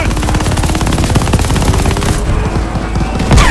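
Sustained machine gun fire from the Call of Duty Vanguard video game, a loud, dense, continuous rattle of rapid shots running the whole stretch with a heavier burst near the end.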